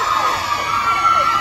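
A crowd of fans at a Thai fan concert screams and cheers loudly in a continuous roar, with a high wailing tone riding over it.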